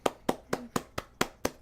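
Seven sharp hand claps ring out at a steady, quick rhythm, close and fairly loud, with nothing else audible between them.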